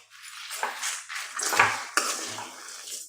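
Black pepper and dried chillies are stirred together in a pan for Kerala-style chutney powder, with a steady dry scraping and rattling of spoon against metal and a few louder clinks, close and alone.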